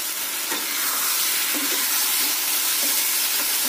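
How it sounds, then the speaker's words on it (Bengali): Spiced food, with the masala being fried down, sizzles and hisses steadily in a hot pan with oil, a continuous close frying sound with light stirring. "খুব ভালো করে কষিয়ে কষিয়ে রান্না করতে হবে।"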